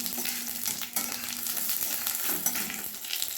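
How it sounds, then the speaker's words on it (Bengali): Cumin, bay leaf and dried red chilli crackle and sizzle in hot oil for a Bengali katla kalia, a steady close frying hiss with small pops and faint stirring scrapes. "এবারে তেল গরম করে ফোড়ন দিয়ে দিলাম, জিরে, তেজপাতা আর শুকনো লঙ্কা।"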